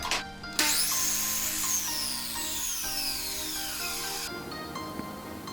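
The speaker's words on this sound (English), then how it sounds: "here I'm actually cutting the trim that's going to go underneath the table" A power tool cuts wooden trim for a table's underside with a steady whine and shifting tonal hum, several changes in pitch as the blade works through the wood, near and continuous throughout.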